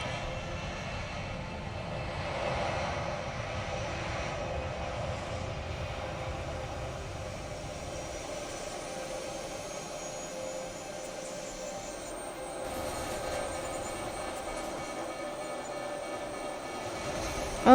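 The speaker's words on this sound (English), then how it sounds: "like a fighter jet plane." A fighter-jet-style aircraft engine roars continuously in the Besiege building game during a plane-crash recreation, a steady broadband rushing drone with a brief swell near the end and no speech.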